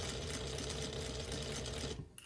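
Sewing machine stitching a button-down shirt collar at reduced stitch length: a fast, continuous, close mechanical whirr with rapid needle chatter that slows and stops near the end.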